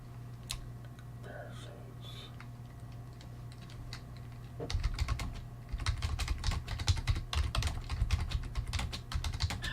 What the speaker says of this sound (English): I'm typing on Discord trying to get guys to join us.